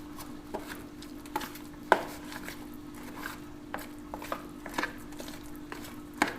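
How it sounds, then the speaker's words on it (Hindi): Spices, chilli and salt being mixed into a thick batter in a bowl, with irregular clicks and taps of the utensil against the bowl over a faint steady hum. "इन सब चीज़ों को आपस में अच्छी तरह मिक्स कर लेंगे।"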